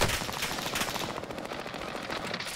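Gunfire in the shooter game Caldera: a steady, loud, rapid stream of shots that fills the moment.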